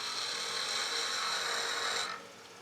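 A skew chisel shears wood on a lathe mandrel, giving a steady, loud, hissing scrape of shavings peeling off that holds evenly for about two seconds and then drops away to a softer whir.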